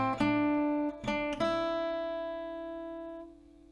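Guitar plucking the F section of a song: three distinct picked notes ring out one after another, then sustain and slowly fade, close and clear with no talking.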